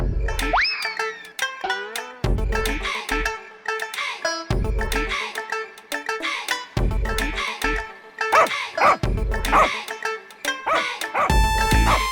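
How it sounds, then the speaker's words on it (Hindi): A cartoon puppy barks and yips in repeated sharp bursts, loud and close, mixed with springy comic sound effects in a Hindi cartoon comedy. "अरे वो कुत्ते का पिल्ला क्यों चिल्ला रहा है?"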